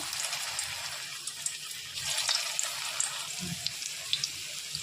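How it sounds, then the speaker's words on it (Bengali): Jackfruit koftas go one by one into hot oil in a pan, giving a steady, close, bright sizzling hiss with scattered crackles and pops and no talking. "এরপর তেলটা গরম হয়ে গেছে, দিয়ে দিব একে একে কোপ্তাগুলা"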